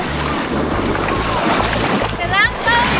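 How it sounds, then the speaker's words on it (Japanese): A cruise boat travels down a river at Langkawi, Malaysia, with a steady low engine rumble beneath continuous wind buffeting and water rushing and splashing alongside the hull. "ずっと今クルーズで川を下っていて"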